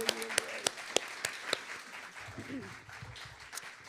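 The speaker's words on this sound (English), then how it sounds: "let's go ahead and give our panel and our speakers a round of applause" Audience applause for a panel and its speakers at a talk event, scattered clapping that starts with a few sharp claps and thins into a soft, moderate patter alongside low talk.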